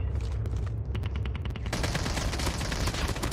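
AK rifle firing in Call of Duty Mobile, rapid automatic bursts of sharp cracks, sparse at first and then a dense sustained stream of shots, loud and close.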